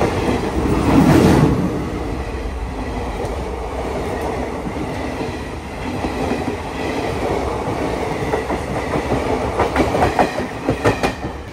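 An empty night passenger train crossing the Kolaghat bridge, a loud continuous rumble with rhythmic clickety-clack of wheels on rails, swelling briefly near the start then rolling on steadily, no talking.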